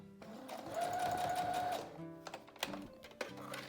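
A sewing machine back tacks a cloth face mask: a close, steady mechanical whir, then short stop-start bursts of stitching as the direction reverses.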